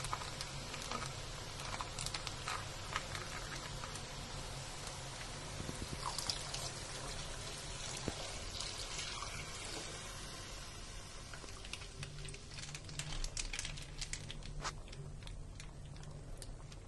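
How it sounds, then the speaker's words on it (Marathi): Milk, a litre of Gokul brand, pours into a pan of about two kilograms of grated carrots for carrot halwa, heard as a faint, continuous liquid pour with light splashing and dripping and no talk. "तर चला आता आपण दूध घालून घेऊया"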